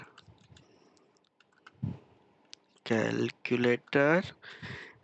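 Sparse, light key clicks from a computer keyboard as Python code is typed in VS Code, quiet and irregular, then a voice takes over and talks over the rest.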